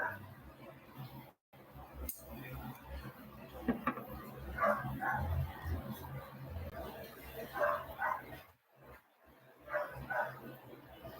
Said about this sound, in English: It's tough having puppies, man.